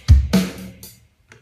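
A short burst of a GarageBand virtual drummer's backbeat blues rock pattern: a heavy kick and a snare hit ring out alone, followed by a couple of fainter cymbal or tom hits that trail off.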